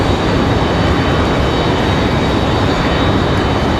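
Southwest Boeing 737-800 engine noise, a steady loud broadband roar that holds evenly throughout with no voices.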